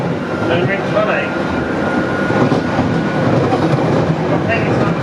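A London Underground Jubilee line train between Stanmore and Stratford, top speed 62 mph, runs with a loud, steady rumble and rattle, faint clicking from the rails, and passengers talking quietly in the carriage.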